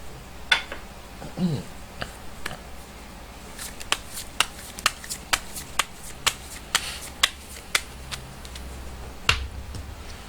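Tarot cards being shuffled and snapped down, a run of crisp, evenly spaced slaps and riffles close by, with a brief voice-like sound early on and low room noise underneath.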